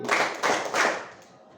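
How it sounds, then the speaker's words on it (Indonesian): Three distinct bursts of group hand clapping in a classroom game, evenly spaced and close, each a short crisp clap from many hands, then a fading tail of quiet. "Guru berkata, tepuk tangan 3 kali."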